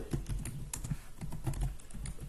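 Quick, steady keystrokes clatter on a computer keyboard while an SQL command is entered, a close, continuous run of clicks with no voices.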